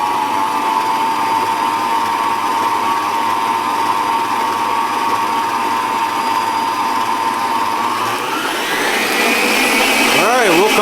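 An electric mixer whirs steadily through protein banana bread batter, holding a constant motor drone before ramping up to a higher, faster whine near the end, close and loud.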